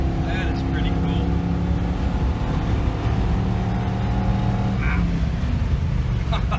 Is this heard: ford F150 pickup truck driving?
yes